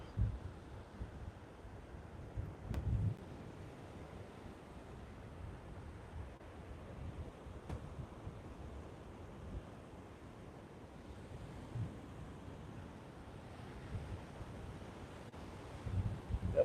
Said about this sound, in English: I'm walking into the wind now, so if the noise is too much, let me know